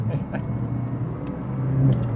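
A 1980s French hot hatch with a 1.4-litre turbo engine accelerates, its engine note a steady low drone that swells slightly as the turbo spools up, heard from inside the car.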